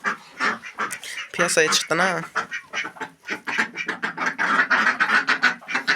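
Ducks quack in a farmyard where a rooster is also kept, their calls coming in rapid, raspy bursts mixed with someone talking nearby.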